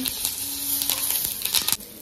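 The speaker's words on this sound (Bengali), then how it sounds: "তেলটা এতটাই গরম হয়ে গেছে, দেওয়ার সঙ্গে সঙ্গে ভাজা হয়ে গেছে" Mustard seeds and dried red chillies spatter in very hot oil with bay leaves while cooking Bengali olive chutney, a steady close crackling sizzle with bursts of popping throughout.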